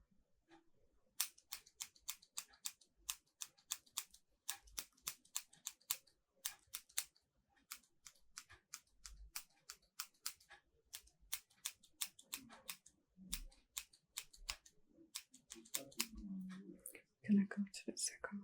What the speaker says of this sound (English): I'm gonna go in with my scissors